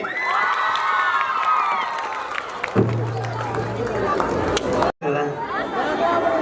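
An audience at a public event in Chitwan cheers and calls out in a lively, continuous crowd din, with a voice speaking over it near the start.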